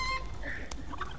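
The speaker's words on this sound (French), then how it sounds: "vous allez tuer une poule" Chicken clucking in a Fortnite-style game scene, a brief close cluck amid low background noise.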